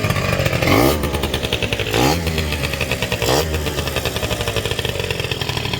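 Kymco Super 8 two-stroke scooter with a Polini 70cc kit running nearby, a loud buzzy engine note with three quick revs rising and falling over a steady rattling idle.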